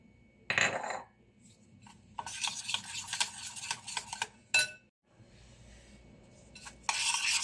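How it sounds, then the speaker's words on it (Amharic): Fried chicken is stirred with baharat spice mix in a pan, heard as a few separate bursts of scraping and rubbing, close and moderately loud, broken by short quiet gaps. "በደንብ አማስለዋለሁኝ።"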